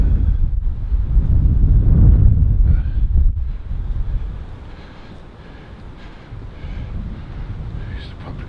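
Strong gusty wind buffets the microphone with heavy low rumbling, easing off midway and then picking up again.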